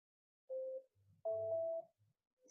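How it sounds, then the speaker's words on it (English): A phone number dialed on a phone sounds as a few short, clean electronic tones, two distinct beeps in quiet with no talk. "I'm going to dial that number from my phone."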